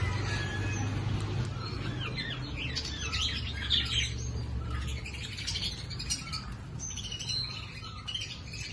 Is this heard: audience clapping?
no